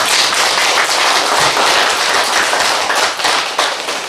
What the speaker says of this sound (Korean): 우리 김지종 원로 목사님을 위해서 크게 박수 한번 부탁드리겠습니다